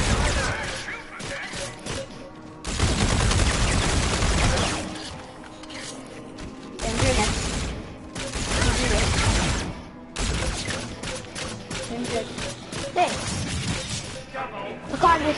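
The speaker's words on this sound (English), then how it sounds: "They're trying to shoot aliens." Bursts of gunfire and impact crashes from Call of Duty: Infinite Warfare as players shoot at aliens, coming in loud, dense volleys separated by quieter stretches, with people talking throughout.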